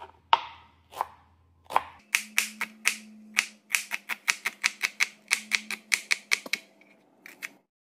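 Knife chopping broad beans, green chillies and onion on a cutting board, a few spaced strikes followed by a rapid, rhythmic series of sharp, close chops and a faint background hum.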